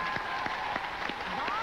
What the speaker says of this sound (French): les enfants de la chanson qu'on peut applaudir